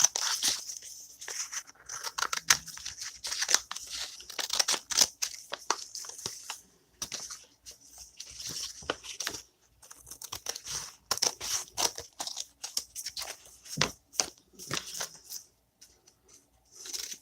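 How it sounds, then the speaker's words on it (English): Scissors snip through paper, cutting a stamped image out of an envelope: close, crisp crinkling and snipping in irregular bursts with short pauses, fairly quiet overall. "I think I'm going to cut this one out."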